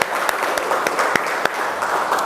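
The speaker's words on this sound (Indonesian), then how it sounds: "Tepuk tangan." Class of university students applauding at the start of a marine environmental management lecture, a steady patter of many hands clapping with several sharp, distinct claps standing out at irregular intervals.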